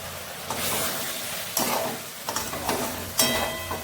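Spices, salt and homemade garam masala frying in oil in a pan for palak paneer, a continuous close sizzle with several bursts of louder stirring and scraping, no voices.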